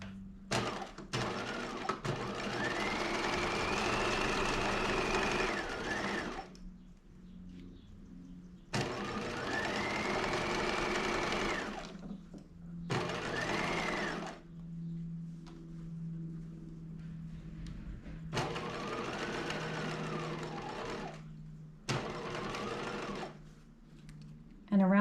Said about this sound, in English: I'm going to go ahead and sew this at 5/8 of an inch.